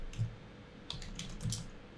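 Computer keyboard typing while text is entered in Photoshop, heard as a few soft, scattered key clicks in a quiet room with no talking.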